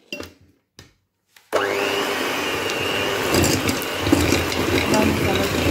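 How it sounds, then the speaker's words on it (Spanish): An electric mixer beating 200 grams of room-temperature butter starts up after a few short knocks, then whirs loudly and steadily with a grinding, churning edge. "Aquí tenemos 200 gramos de mantequilla al ambiente, que los vamos a ir batiendo."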